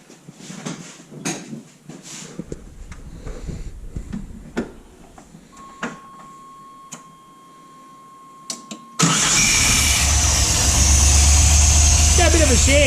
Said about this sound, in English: Colin, go hold the clutch in and fire it up.